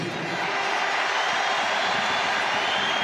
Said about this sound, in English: the cheer that greeted Pavlidis there that you heard